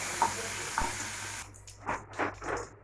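Pointed gourd frying lightly in oil with turmeric and salt, a steady sizzle with a couple of stirring knocks, then quieter bursts of crackle as pieces are moved in the pan.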